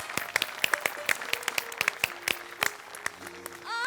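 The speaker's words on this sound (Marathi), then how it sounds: "मंडळी एकदा जोरदार टाळ्या." A studio audience at a Marathi comedy show breaks into brisk, loud applause. The clapping lasts about three seconds before thinning out, and a short tonal sound follows at the end.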